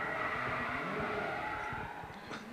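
Drift car with an 800 horsepower RB32 engine sliding through a corner at a D1NZ championship round at Baypark Stadium, engine roaring steadily with tire squeal and crowd ambience in the distance.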